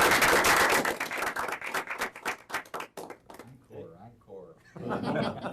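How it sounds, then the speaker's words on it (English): An audience at a 2007 texture mapping conference session claps in a dense, loud burst of applause that fades after about three seconds, followed by someone speaking. "With your permission, I'd like to give them a round of applause."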